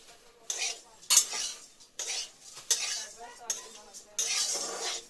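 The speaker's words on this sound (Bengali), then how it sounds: "আমি আমার গোপালের জন্য চিড়ে ভাজছি।" Flattened rice (chire) is fried and stirred in a pan, with repeated metal scrapes and clinks of a utensil against the pan in uneven bursts, close up with faint sizzle between strokes.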